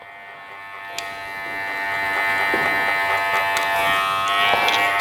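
Electric hair clippers cutting curly hair during a men's haircut, a steady close buzz that swells slightly as the blades work through the hair, with no talking.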